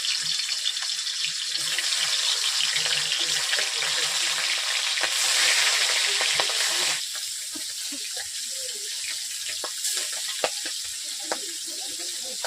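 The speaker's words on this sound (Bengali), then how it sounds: "এরপর কড়াইয়ের মধ্যে আমি আস্তে আস্তে মাছগুলোকে সেইভাবে দিয়ে দিচ্ছি" Pangas fish pieces sizzling in hot oil in a wok, a steady loud frying hiss that drops in intensity partway through, with occasional clinks and stirring sounds.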